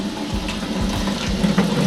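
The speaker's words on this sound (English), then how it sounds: "Hopefully y'all can hear me over that water" Water running while an RC car gets washed, a steady close rushing hiss with a low rhythmic thumping underneath, and no talking.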